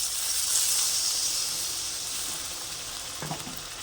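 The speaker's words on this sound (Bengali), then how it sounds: "তো এই পর্যায়ে আমি জল দিয়ে দেবো পরিমাণ মতো" Water hits hot fried spice paste in a pan while cooking Bengali rui fish rezala, giving a loud, bright sizzle that slowly fades, followed by a few soft clinks near the end, with no voices.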